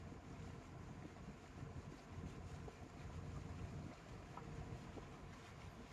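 Steady wind rushes past a river launch moving through wide water lined with mangrove forest in the Sundarbans, a continuous broad roar with faint water wash underneath, no talking.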